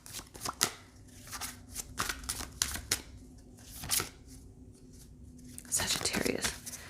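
Tarot cards being shuffled by hand, with quick riffling bursts and soft flutters repeating at close range over several seconds, and a voice talking quietly underneath.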